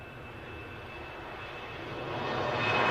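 An airliner departing Glasgow Airport gives a steady broadband engine roar that swells gradually louder over a few seconds, with no voices.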